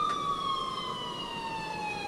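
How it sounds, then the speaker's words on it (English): Wailing emergency siren in the distance, a slowly falling steady tone holding across the whole clip, moderately faint with no talk over it. "until I finally heard sirens in the distance."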